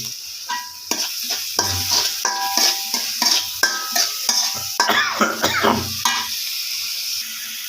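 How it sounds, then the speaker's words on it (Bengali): A spatula stirs salted curry in a sizzling pan, making repeated rhythmic scrapes and clinks against the metal over a continuous frying hiss. The sound is close, and no one speaks. "এখন একটু নাড়া দেই"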